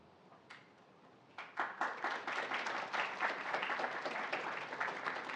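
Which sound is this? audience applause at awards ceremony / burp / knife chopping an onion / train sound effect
audience applause at awards ceremony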